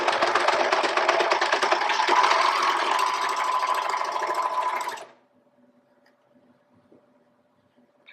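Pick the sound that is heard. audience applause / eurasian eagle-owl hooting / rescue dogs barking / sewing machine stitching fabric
sewing machine stitching fabric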